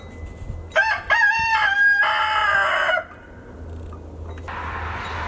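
A rooster crows loudly once, near, on a farm where chickens roam, followed by quieter clucking and soft farmyard background noise.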